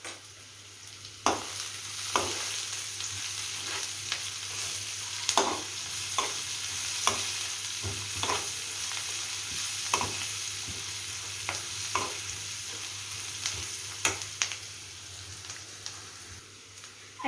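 Onions with turmeric fry in a pan with a steady sizzle, punctuated every second or two by sharp scraping clicks of a spoon stirring.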